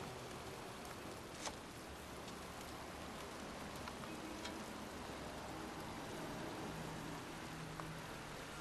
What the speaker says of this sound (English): It's raining. I'm standing outside getting soaked.